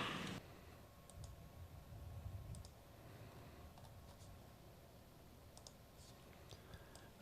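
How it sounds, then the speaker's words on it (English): Sparse clicks of typing on a computer keyboard, short scattered keystrokes at low level over faint room hiss, following a brief louder noise at the start. "I'm typing on the wrong computer."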